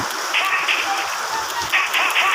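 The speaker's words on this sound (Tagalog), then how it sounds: "Naulan pa rin po." Rain falls in a dense, steady hiss with scattered drops tapping on a surface, loud and close throughout, with no voices.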